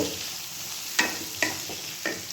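Pointed gourd sautéing in a pan with garlic, tomato, Kashmiri chili, coriander, cumin, turmeric, salt and a little sugar gives a soft background sizzle, broken by three or four sharp clinks of a spatula against the pan.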